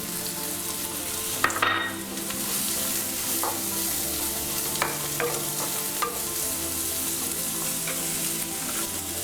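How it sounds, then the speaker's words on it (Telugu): Onions, capsicum and peas fry in hot oil for street-style pav bhaji, a steady sizzle running throughout with scattered scraping stirs of the spoon in the pan, close up and with no talking. "ఉల్లిపాయలు పచ్చివాసన పోయే వరకు మనం ఫ్రై చేసుకుందాం."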